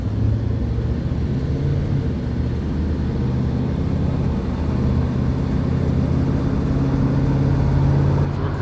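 A 1962 Chevrolet Impala cruises on a California freeway, a steady low engine drone and road rumble heard from inside the cabin, loud and unbroken.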